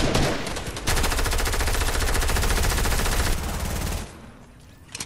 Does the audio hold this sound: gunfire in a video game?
yes